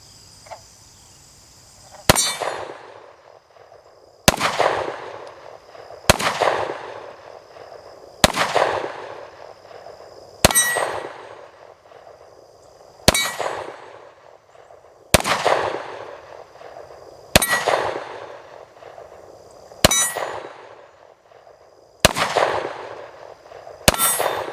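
Taurus G2C 9mm pistol fires about eleven sharp, loud shots at a target, spaced roughly two seconds apart, each crack trailing off in an outdoor echo with quiet gaps between.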